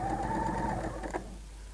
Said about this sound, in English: just using the overlocker, right sides together, we're going to just join the edges